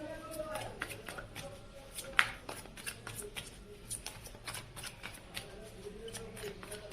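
Tarot cards being shuffled and handled in a steady run of soft riffling flicks and crisp taps for several seconds, with faint talk murmuring underneath.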